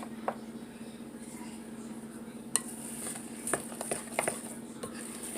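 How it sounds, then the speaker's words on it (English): A spoon stirs thick hoecake cornbread batter in a bowl, producing soft scraping and a few light clinks against the bowl over a quiet steady background hum. "finish stirring it with my spoon"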